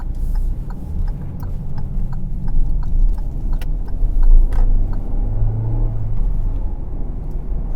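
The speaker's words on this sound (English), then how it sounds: "Building my speed right back up, because at this point it's a 70 mile an hour road" A car accelerates onto a 70 mph road, its engine rumbling steadily from inside the cabin as it builds speed, with faint ticking over the continuous drone.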